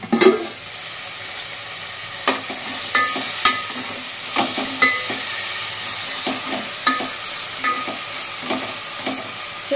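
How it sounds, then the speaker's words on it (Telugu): Fenugreek leaves cook in a hot pan, a steady soft sizzle broken by repeated distinct scrapes and knocks of a spoon stirring at irregular intervals. "ఒక 2 minutes అయితే మెంతి కూర మగ్గిపోతుంది"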